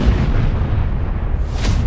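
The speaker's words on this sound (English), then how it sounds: "A big explosion." A big explosion in the video game For Honor, a loud, deep rumbling blast with a dense low roar throughout and a brighter burst swelling near the end, close and alone.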